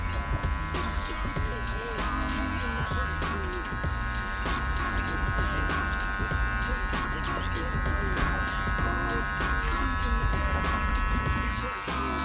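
Electric hair clippers buzz through hair while a barber rakes through a twist sponge style, a steady close mechanical hum with small bursts and shifts as the blades move.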